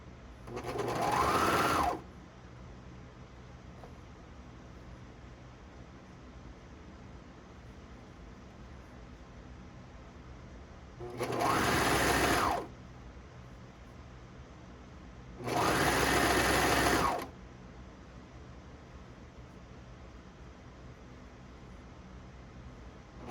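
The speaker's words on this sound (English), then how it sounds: "Make sure that the strap right here doesn't get pushed out of the serger." A serger overlocks the edge of a black fabric strap in three separate bursts of close, steady mechanical whirring, the first and last longest, with a quiet background hiss between them and no talking.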